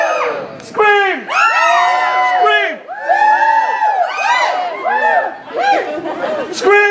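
A theatre audience screams and cheers on cue at a live comedy show, a loud, dense crowd roar rising in repeated bursts with short dips between them.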